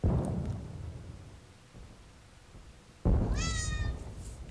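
A cat meows twice in the video game Tales of Vesperia, a short call near the start and a clearer, rising meow after a quiet pause, over low background noise.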